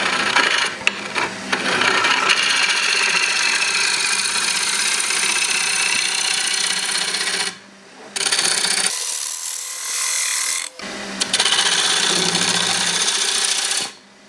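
A bowl gouge trues the face of an Australian hardwood platter spinning on a lathe, making a loud, continuous close scraping hiss that breaks off twice for brief pauses before resuming.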